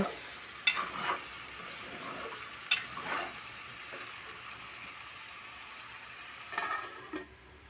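Chicken curry is stirred in a pan outdoors in a village in the rain, with soft scraping and gentle sizzling and a few sharp spoon clinks against the metal over a quiet background.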